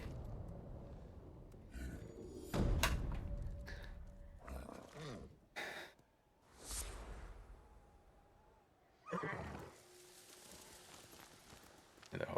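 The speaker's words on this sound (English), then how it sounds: "The horse is agitated." Agitated horse in the video game Ghost of Tsushima, with hoof clatter and snorting bursts breaking out between quieter stretches, fairly close and loud in places.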